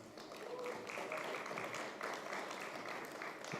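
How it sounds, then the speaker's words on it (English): Faint, steady applause from a conference audience at the Local Content Conference 2025 as panelists are called up, a soft continuous patter of many hands heard from a distance. "Please give them a warm applause"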